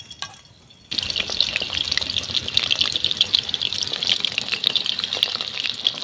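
Mushroom pakoras, made from mushrooms picked in the garden, fry in hot white cooking oil, added one by one. A dense, steady sizzle starts abruptly after a brief quiet moment, then continues loud and close with no talking.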